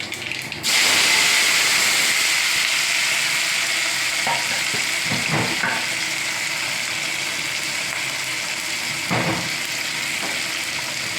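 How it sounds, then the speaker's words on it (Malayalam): Chopped carrot sizzles loudly in a hot pan while being sautéed for moru curry, giving a continuous hiss with a few scraping stirs and no talking. "എല്ലാം കൂടി ഒന്ന് വരച്ചെടുക്കുകയാണ്."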